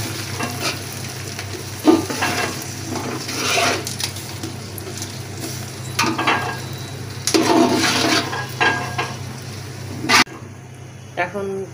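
Chopped onions sizzle and fry in a hot pan while being stirred, with steady crackling and scraping under intermittent talk, then a sudden cutoff near the end.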